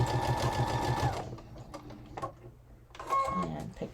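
Sewing machine stitching through jeans, a fast, steady mechanical chatter for about a second, then stopping, followed by fabric handling and a brief whirring restart, close up.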